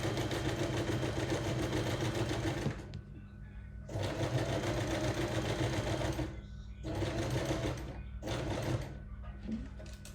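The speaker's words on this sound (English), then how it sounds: "line the sewing machine back up where it was and continue stitching" Sewing machine stitching along a zip in bursts of steady, rapid mechanical whirring, pausing briefly between runs, close and fairly loud.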